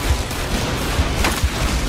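Rapid bursts of gunfire in the video game Battlefield Hardline crackle in a dense, continuous stream, with a few heavier booming shots standing out.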